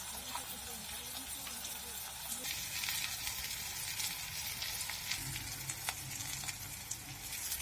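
Paneer and ground spices such as turmeric, chilli, cumin and coriander fry in a pan with a continuous crackling sizzle, joined partway through by a denser, louder hiss, with faint background voices.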